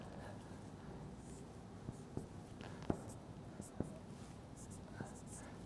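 Graph of the tangent function sketched by hand during a university calculus lecture on improper integrals: a few faint, scattered scratchy strokes over steady room hum, with a soft voice murmuring underneath.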